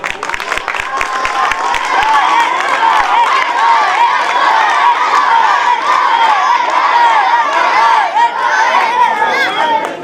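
A crowd of schoolboys at a co-curricular competition cheers and shouts in loud, excited chatter, with a few sharp claps at the start, a continuous, energetic roar of many voices.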